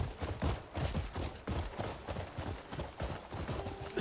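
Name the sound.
horse hooves clip-clopping in video game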